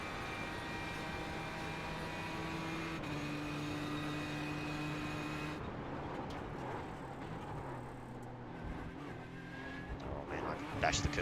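A Ford GT GTE race car at Monza in a racing game drones with a steady engine whine that shifts pitch as it changes gear, continuous and moderately loud, with a voice talking over it.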